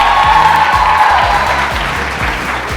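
Applause from a festival crowd in Karachi welcomes Shireen Apa, the guest star, at a Masala family Eid event. Loud, dense clapping fills the clip throughout, with a low rhythmic music beat running underneath.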